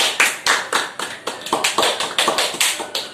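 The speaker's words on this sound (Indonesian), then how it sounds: "teman-temannya berikan aplaus" Classroom applause after a student's presentation: a short burst of sharp, loud hand claps in a quick, uneven rhythm, close by, with no talking.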